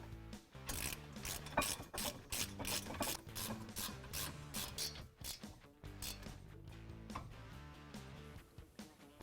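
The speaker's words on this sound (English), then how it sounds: "We got our 5/8 on our ratchet. We're ready to tighten it up." A 5/8 socket on a hand ratchet clicks rapidly in quick bursts while tightening the new mounting bolts of a brake caliper on a C2/C3 Corvette, close up with short pauses and no talking.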